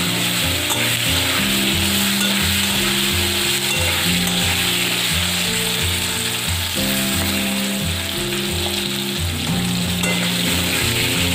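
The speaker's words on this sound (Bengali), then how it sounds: "আলুগুলো একটু ভালো করে ভেজে ভেজে নিয়ে তারপরে আমি অ্যাড করবো ডাঁটাগুলো" Potato pieces frying in oil for a cauliflower-stalk chorchori, a loud steady sizzle with repeated rhythmic scraping of a spatula against the pan throughout.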